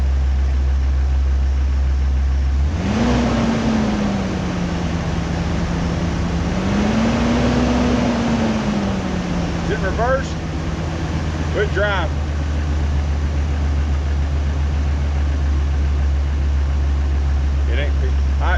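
A vehicle engine idles steadily after being shifted into reverse, then revs up briefly twice under a little throttle before settling back to a low idle. Someone talks over it near the end.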